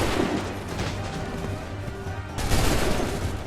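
A volley of musket fire on command in Assassin's Creed 3 is a dense crackling burst of many overlapping shots with rumbling echoes, rising again in a louder second wave near the end.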